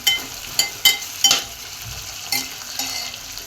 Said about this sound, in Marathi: टोमॅटो पण छान परतून घेऊ